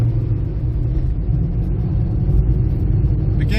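A 1979 Austin Allegro Estate 1500 Super Series II accelerates, heard from inside as a loud, steady low engine rumble with road roar, continuous and with no voices.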